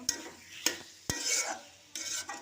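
A spoon stirs and scrapes spice paste with tomatoes frying in a pan for a tengra fish, potato and tomato curry, sharp scraping strokes repeating over a continuous close sizzle.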